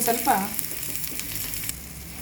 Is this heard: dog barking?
no